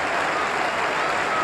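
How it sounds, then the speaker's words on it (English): Cricket crowd at the Basin Reserve in Wellington applauding a departing batsman during a 1992 World Cup match between New Zealand and England; a steady, dense wash of clapping from a large distant crowd, with commentary voice underneath. "he's going off to the tremendous clap that he so richly deserves"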